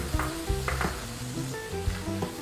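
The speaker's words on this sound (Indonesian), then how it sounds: "Kita tumis" Ground spice paste sautéing in plenty of oil for Makassar-style Pallu Basa, a close, continuous sizzle with several sharp scrapes and knocks of a utensil against the pan.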